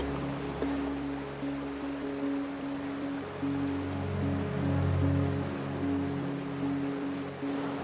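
Steady rushing of a small forest stream in Uttarakhand fills the scene, with a low droning hum running underneath.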